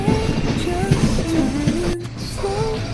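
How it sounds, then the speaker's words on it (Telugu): A train at Secunderabad Junction, Hyderabad's large ten-platform railway station: a steady, loud rumble and clatter with rising and falling tonal whines running throughout, and no talking. "ఇదే మన సికింద్రాబాద్ జంక్షన్"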